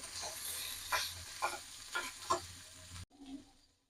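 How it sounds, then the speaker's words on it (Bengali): Garlic stirred in hot oil with mooli (radish) greens in a pan, a steady sizzle broken by several distinct stirring scrapes, close and fairly loud, ending abruptly. "এখন রসুনটির সাথে তেলের সাথে একসাথে মিশিয়ে মিশিয়ে নাড়াচাড়া করে"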